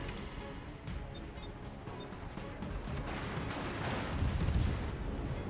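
Video game gunfire aimed at the player: a dense, rumbling wash of distant shots and impacts that swells louder toward the end, with no talking.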